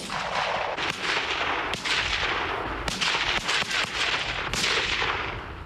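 Live-fire artillery during a military fire mission, heavy booming reports following one another every second or so, loud with long rumbling tails and no voices.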